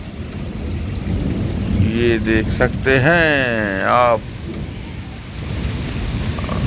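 Heavy rain in a thunderstorm over Punjab farmland, a dense wash of falling water with low rumbles, while someone talks loudly over it in the foreground.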